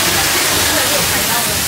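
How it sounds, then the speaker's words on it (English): A waterfall roars loud and close, a dense, steady rush of falling water that fills the whole moment without a break. "we're still next to a waterfall that Santa Claus is going over."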